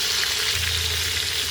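Steady, close sizzling of a pork chop frying in hot oil, a continuous crackling hiss with no voices.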